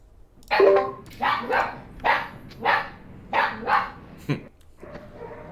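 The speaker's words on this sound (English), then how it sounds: "Someone's dog is barking." A dog barks about seven times in a loose rhythm, fairly close and loud, with short quiet gaps between barks.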